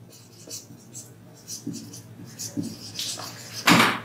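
Chalk or marker strokes on a board during a lesson, short scratchy bursts at an uneven pace, ending in a louder scrape, with faint room noise.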